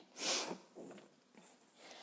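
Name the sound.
sniffling with a blocked nose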